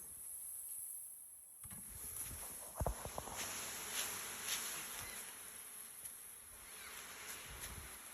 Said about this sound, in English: All those bees